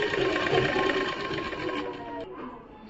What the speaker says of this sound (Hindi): जो मैं यहाँ चूनन के लिए जो सिलाई लगाई थी जस्ट उसके ऊपर ही मैं ये भी सिलाई लगा लूँगी